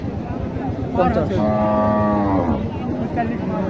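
A Sahiwal cow at a busy cattle market in Naogaon gives one long, loud, drawn-out moo in the middle, set against steady crowd murmur and livestock noise.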